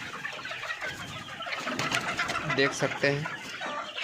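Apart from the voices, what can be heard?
poultry chickens clucking in farm shed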